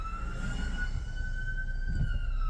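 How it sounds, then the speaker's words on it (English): Ambulance siren heard from inside a stopped car, a steady wailing tone held throughout over low engine and road rumble. "I had to stop for the ambulance"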